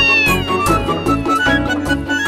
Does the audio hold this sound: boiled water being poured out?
no